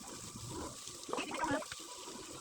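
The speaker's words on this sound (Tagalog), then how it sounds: "Ayan, lalagyan na natin ng tubig." Water splashes and gushes as it is poured into a cooking pot of chicken and papaya, a brief burbling pour rising in the middle against kitchen background noise.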